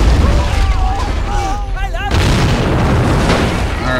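Artillery shells explode in the World War II strategy game Men of War: Assault Squad 2. Heavy, rumbling booms fill the scene, with one large blast near the middle, while someone talks over the battle noise.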